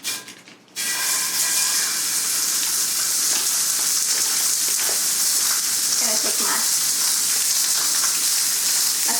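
Gluten-free sausage browning in a pan for Southern-style biscuits and gravy, a steady, close sizzle and hiss running unbroken after a brief quiet start, with faint scraping in the pan.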